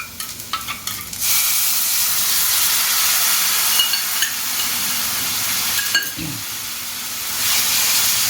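Potatoes fry with spice paste in a pan for a simple fish curry, giving a loud, steady sizzle and hiss, with a few scraping stirs at the start and another brief stir midway.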